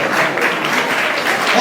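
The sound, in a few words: applause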